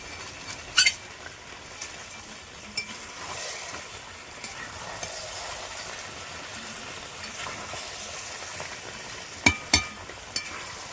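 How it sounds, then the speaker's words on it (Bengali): Chicken being sautéed (kosha) in a pan gives a steady low sizzle and stirring scrapes, with a few sharp metallic clinks of a utensil near the start and again near the end. "চিকেনটা এখন কষানো চলছে"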